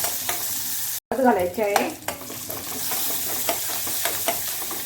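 Curry leaves and crushed green chillies stirred into hot oil with mustard seeds, sizzling and crackling loudly at first, then settling into a steady fry with a spoon scraping the pan and a brief spoken line.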